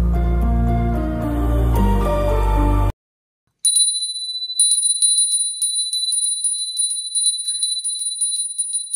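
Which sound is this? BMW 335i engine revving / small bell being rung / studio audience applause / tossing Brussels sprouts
small bell being rung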